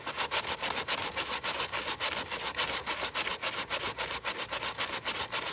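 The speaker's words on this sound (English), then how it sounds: "We're sanding now." Steady back-and-forth rubbing of sanding, with rapid, even scratchy strokes repeating several times a second at close range. The sound carries on unbroken and alone, with no talk.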